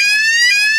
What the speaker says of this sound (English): I've got an alarm, which is annoyingly like the ones in halls.